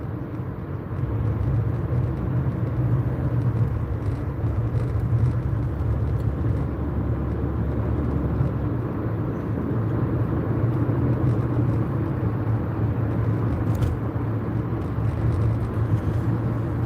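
Car driving on the road in a delivery ridealong, a steady low engine and road rumble heard from inside the cabin, even and continuous throughout.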